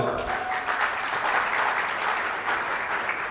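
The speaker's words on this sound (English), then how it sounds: "Let's give them a round of applause." Applause for teachers taking part in a classroom quiz game, a steady, dense round of clapping from a modest group that fills the whole stretch without pause, with no voices over it.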